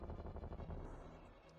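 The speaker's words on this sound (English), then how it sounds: "You can't pause during boss explosions" A boss explodes in Zelda: A Link to the Past: a rapid string of crackling, popping blasts, dense and steady at first, then thinning out and fading over about a second and a half, with no talk.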